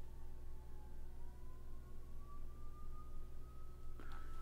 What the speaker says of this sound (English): By the way, I hear a lot of sirens outside.